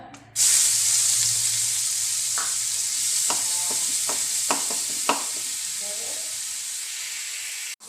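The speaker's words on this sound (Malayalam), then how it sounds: "അപ്പോൾ ഇതിലേക്ക് ഞാൻ ഉള്ളി ഇടാണ്" Onions hit a hot pan and break into a loud, steady sizzle that runs throughout, with several distinct stirring scrapes and clicks near the middle, while a vegetable fry masala is being cooked.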